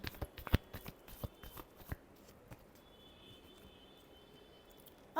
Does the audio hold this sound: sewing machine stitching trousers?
no